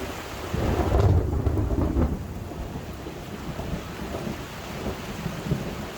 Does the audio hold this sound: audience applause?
no